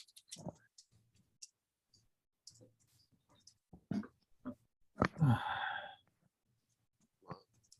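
Sparse, irregular keyboard key clicks, quiet and close, with a short breathy rush of noise partway through.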